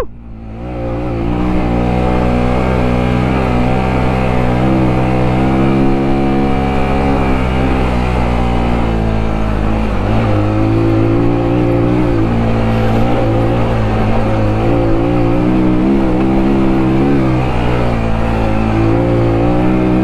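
Sinnis Terrain 125 off-road motorcycle engine revving hard as it climbs a very steep hill, a steady loud drone with rising and falling pitch held close and continuous throughout.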